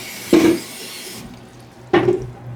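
Hot water ladled into a pint jar packed with pepper slices during home canning, two short pours, each a quick close splash and gurgle separated by a pause.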